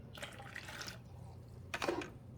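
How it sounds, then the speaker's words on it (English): Water splashes out of a Keurig K-Latte coffee maker reservoir during descaling, poured in two short gushing bursts separated by a quiet gap, with no talking. "So we're going to dump this water out."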